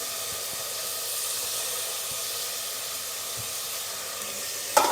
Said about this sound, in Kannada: ಕ್ಯಾಪ್ಸಿಕಮ್ ಸ್ವಲ್ಪ ಹಸಿ ವಾಸನೆ ಹೋಗೋ ತನಕ ಸ್ವಲ್ಪ ಫ್ರೈ ಮಾಡ್ಕೋಬೇಕು